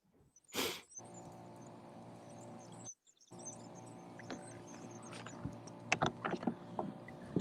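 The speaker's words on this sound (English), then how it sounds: "I hear a boat. Got a little John boat." A small john boat passes on the water, a faint engine hum beneath outdoor ambience with scattered bird chirps and a brief loud bump near the start.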